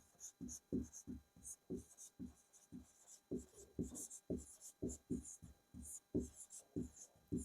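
Pen writing notes by hand during a music lesson, a close series of quick scratchy strokes in uneven bursts with short pauses between, faint and alone.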